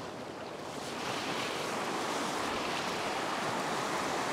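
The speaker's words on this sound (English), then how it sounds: "I'm always keeping my eye on these waves." Ocean waves break on the rocks at a rock-fishing spot, a dense, continuous roar of surf and spray that swells after the first second and stays loud and close throughout.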